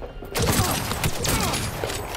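Gunfire from a firefight in Cyberpunk 2077 on PC breaks out as a dense burst of close shots with echoing booms and mechanical clatter, with no talking.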